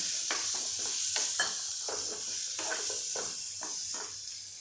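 Potatoes stirred in a sizzling pan for a potato red rassa curry: steady frying hiss beneath a series of rhythmic, close scraping strokes of the spoon, with no talking.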